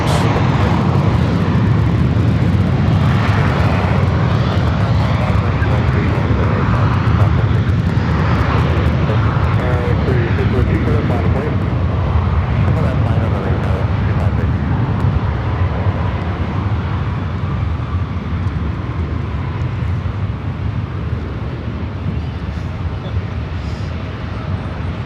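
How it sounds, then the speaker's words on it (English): A jet airliner roars low overhead on final approach into LAX, a loud sustained broadband rumble that swells and slowly fades as it passes, with faint traffic beneath. "a plane landing in front or right above us, flying right over us as it's making its final approach"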